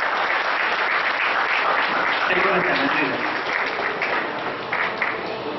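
An audience at a blood donation camp and award event gives a farewell ovation to a speaker who came despite being unwell, producing sustained, dense, loud applause while a voice speaks briefly over it.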